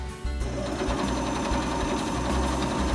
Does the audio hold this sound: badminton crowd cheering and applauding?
no